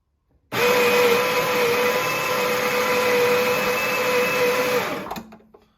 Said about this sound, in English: So grind the beans up.